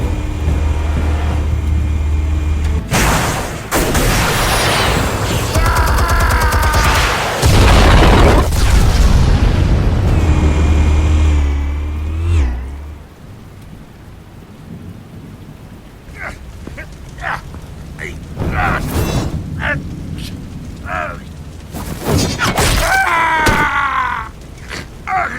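Explosion in the video game The Last of Us: deep booming blasts and a long rumbling roar, followed by scattered impacts, crackles and short voice sounds from the game.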